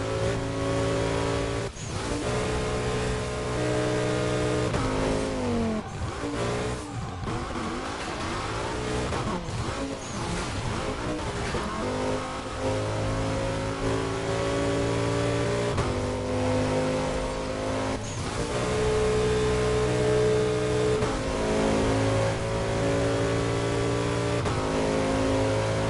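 A Lamborghini Countach engine revs loudly and steadily in Burnout Paradise, its harmonic roar rising and falling through gear changes and throttle swells, with brief tire-skid textures over the sustained drone.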